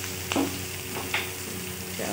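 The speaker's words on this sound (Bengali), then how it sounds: "সুন্দর ফ্রাই হয়ে যাচ্ছে।" Onion and spices frying in a pan while making chicken korma, a steady close sizzle with two brief stirring scrapes and no talk.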